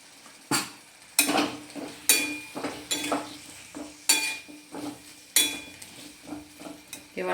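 Potatoes being cooked down with spices in a pan for a Bengali egg and potato curry, loud metal spatula scrapes and clanks coming in an uneven rhythm over a soft frying hiss, close up, no talk.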